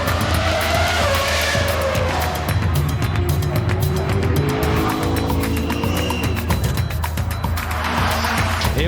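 A fully electric race car at the Goodwood Festival of Speed, a loud rising whine and tire squeal as it pulls away, with crowd noise underneath and no talk.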